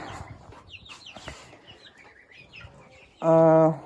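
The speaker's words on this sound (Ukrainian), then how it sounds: "Це наші індюки, це все, що залишилось." Farmyard fowl, turkeys and roosters, clucking and calling in scattered bursts, then one loud, close, harmonic call near the end.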